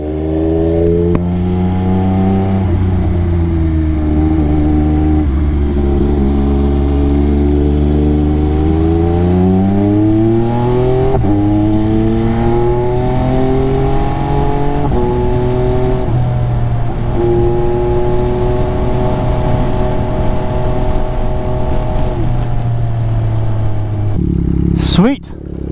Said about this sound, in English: Little AMG GTS.